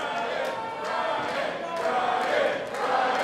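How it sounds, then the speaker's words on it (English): A capacity crowd at a VCW professional wrestling event in Norfolk keeps up a steady roar of shouts and cheers, with a few sharper surges rising out of the constant din. "As you can hear the crowd in Norfolk"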